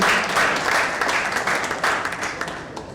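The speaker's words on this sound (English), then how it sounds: "Please a round of applause for him." A crowd claps together in a steady burst of applause that gradually tapers off over a few seconds.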